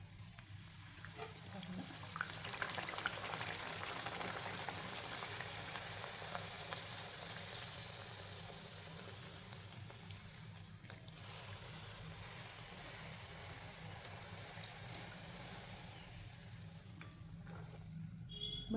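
Masala puri sizzling in hot oil, a steady, dense crackling hiss that runs the whole stretch at moderate level with no talking over it.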